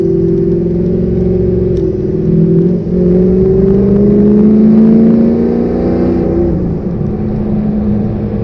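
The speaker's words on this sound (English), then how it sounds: "this truck, the sound it makes from the 4-inch exhaust is just," A 2004 Ford F250 King Ranch pickup with a 6.0L Powerstroke diesel, tuned to 600 hp, revs up through a 4-inch exhaust: a loud, close, deep rumbling drone that rises and falls in pitch without talk.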